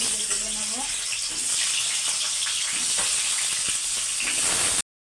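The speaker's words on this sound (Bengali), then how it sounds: "আলু ভাজা হয়ে এসছে আর একটু ভেজে তুলে নেব" Potato pieces sizzle in hot oil for an egg curry, a loud, continuous close-up hiss and crackle, with a voice briefly audible at the start.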